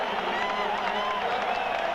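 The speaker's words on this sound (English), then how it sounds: "And the crowd will rise and salute the announcement of Dirk Graham's second goal of the" A hockey arena crowd at a Detroit Red Wings versus Chicago Blackhawks game cheers and applauds after a goal announcement, producing a steady, broad roar of clapping and voices that holds at even loudness throughout.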